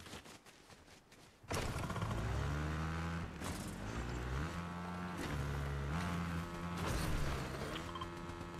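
Motorcycle engine in Fortnite, a steady droning roar with rising and falling revs that kicks in abruptly after a quiet start and holds loud and close throughout.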